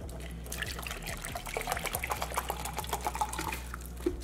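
Water splashes and trickles from a bottle into a container while mixing a G Fuel drink, a soft, irregular pouring patter that runs steadily for a few seconds with small drips and gurgles, close and fairly quiet.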